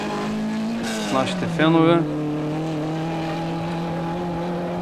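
A Škoda 130 RS rally car at an auto sprint event holds a steady engine drone, with a brief rise in revs and a short whine. Someone talks over the engine.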